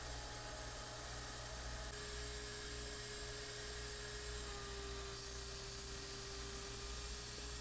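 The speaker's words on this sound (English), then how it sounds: "I'm going to use my belt sander" Belt sander running at 4,000 RPM for rough cuts on parlor guitar neck parts, a constant faint droning whine with a low hum underneath, steady and unbroken the whole time.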